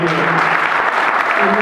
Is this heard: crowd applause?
yes